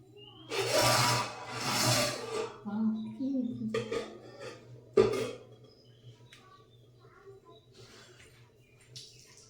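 Curry being stirred in a cooking pan on a home stove, a spoon scraping and clinking against the metal in a few rough strokes, then quieter simmering; a voice is present faintly.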